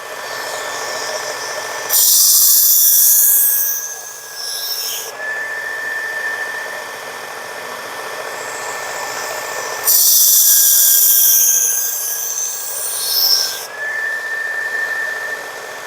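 Work Sharp powered knife sharpener touching up a skinner knife, two loud high-pitched grinding bursts of about three to four seconds each, separated by a lower steady motor whine, close and without talk.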